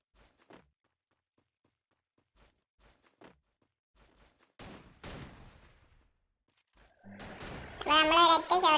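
Gunfire from the Free Fire mobile battle royale game: faint scattered clicks and footsteps early, then a couple of sharp bursts of shots midway, followed by louder overlapping game noise and music-like tones at the end.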